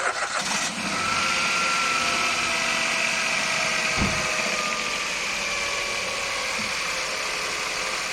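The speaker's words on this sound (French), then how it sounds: "On entend bien le moteur tourner mieux qu'avant" A Nissan Micra engine runs on fresh oil and a new filter after an oil change, a steady, smooth idle hum close by, with a brief clunk partway through.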